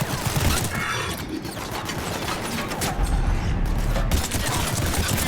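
Sustained gunfire in a Mass Effect 3 battle, dense overlapping shots forming a continuous loud fusillade with crashes, and a voice speaking briefly beneath the din.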